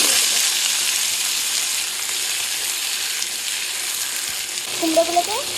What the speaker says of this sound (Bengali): কুমড়োগুলোকে আর আলুগুলোকে একটু লাল লাল করে ভেজে হয়ে গেছে